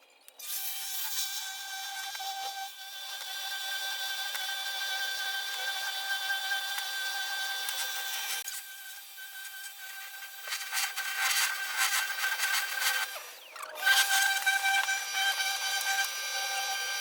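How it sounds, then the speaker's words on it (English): Steady rubbing and scraping of 150 grit sandpaper on a rough oak edge, continuous strokes with brief pauses, close and moderately loud, no talking. "This edge is quite rough, so I'm going to use the 150 grit"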